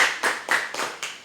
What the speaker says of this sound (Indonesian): Boleh berikan tepuk tangan untuk Pak Guru.